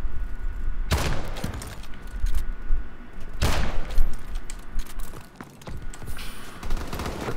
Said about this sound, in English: I fired twice, missed twice.